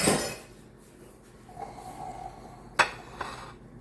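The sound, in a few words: spatula being put down in kitchen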